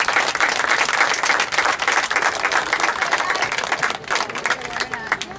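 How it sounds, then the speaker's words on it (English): A crowd at a school soccer district awards event gives a round of applause for the District 12 All-District team, a steady, dense wash of clapping with a few voices beneath it. "Let's give them a round of applause."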